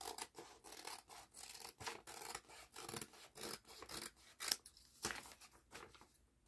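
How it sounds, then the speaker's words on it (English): Scissors cut repeatedly through a laminated paper napkin, making a steady run of quiet rasping snips at an even rhythm, close by with no voices. "I guess you have to cut out the paper too."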